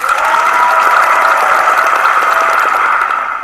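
A canned round of applause from a crowd, a steady, dense wash of clapping that holds at full strength for about three seconds before easing slightly at the end, with no voices over it.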